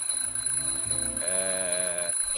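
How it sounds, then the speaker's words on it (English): Smoke detector alarm in The Journey Down video game, an electronic tone heard indoors, sounding steadily throughout with a high whine over it alongside soft game background sounds. "just testing the smoke detector."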